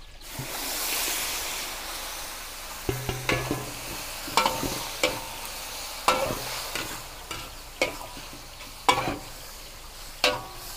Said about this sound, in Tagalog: Buhos po natin yung ating minarinated na chicken.